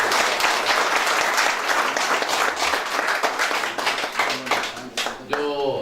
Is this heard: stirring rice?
no